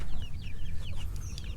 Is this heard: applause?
no